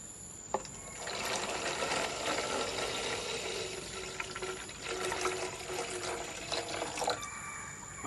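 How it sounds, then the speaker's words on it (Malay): Water pours into a cut plastic bottle, a DIY hydroponic plant planter, as a steady hissing, splashing stream that runs for about six seconds and then fades, with no talking. "Kemudian kita letak air."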